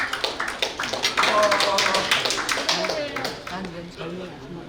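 Guests at a newspaper's anniversary ceremony clap for a lawmaker walking to the stage, a scattered burst of hands under a nearby speaking voice, fading toward the end.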